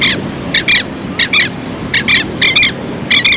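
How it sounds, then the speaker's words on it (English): Unfamiliar birds near the presidential palace in Santiago, Chile, give loud, harsh squawks close by. About eight short calls come in quick pairs and clusters over faint city background. "there's these weird birds. They're not pigeons."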